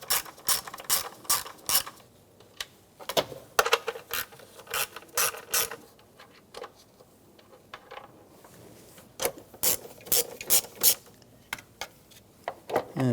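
Crisp ratchet clicks from an 8mm socket backing out engine cover bolts on a 2008-2013 BMW 328i xDrive, coming in quick close bursts separated by short pauses.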